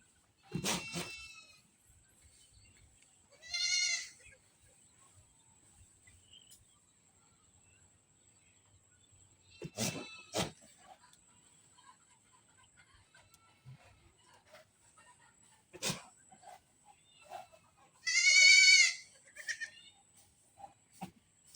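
A goat during breeding bleats in several separate, loud, close calls with long quiet gaps between them, along with faint shuffling and low handling noises.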